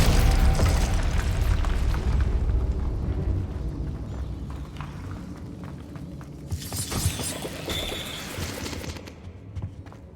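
Glacius freezing spell in Hogwarts Legacy: a loud crystalline shattering burst fading into crackling ice debris, with a second bright icy shatter near the end, no voices over it.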